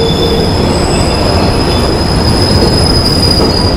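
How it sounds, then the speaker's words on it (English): Amtrak Silver Star train rolling along the rails, a loud continuous rumble with high steady wheel squeal tones, heard close up without voices. "It's a big train, as you can see."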